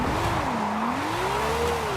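A car drifts in Forza Horizon 5, its engine note rising and falling in a steady wavering drone as the tires slide, loud and continuous with no voices.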